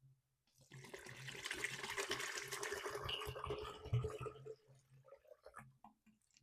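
Gatorade pours steadily from a 28-ounce bottle into a container, a faint liquid stream that lasts several seconds and then trails off into a few drips.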